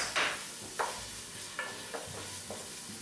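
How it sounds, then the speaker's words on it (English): Tomato paste sautéing with onions and garlic in a pan for a lasagna sauce, several quick spoon scrapes and stirs landing about every half second over a low, soft sizzle. "I like to saute the tomato paste with the onions and garlic for about a minute."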